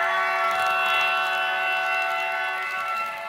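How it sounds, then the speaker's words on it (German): Horn of an ÖBB Vectron locomotive in a train simulator game, a steady multi-tone chord sounding loud and continuous for the whole stretch, with no other sounds around it. "Ich finde auch die Hörner verdammt geil von City Chat und von Vectron"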